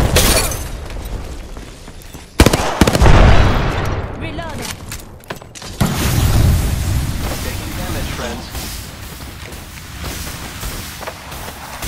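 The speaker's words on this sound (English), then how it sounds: "Look out, grenade!" A grenade goes off in Apex Legends, with sharp booming blasts and bursts of gunfire-like crackle, the loudest hit early and another after a few seconds, set against constant game noise and character voices.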